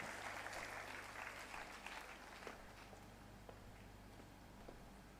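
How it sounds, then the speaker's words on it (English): Conference audience applauding, a broad continuous clapping at moderate distance that thins slightly toward the end, with a few sharper individual claps standing out and a low steady hum beneath. "Round of applause is going to get even more louder"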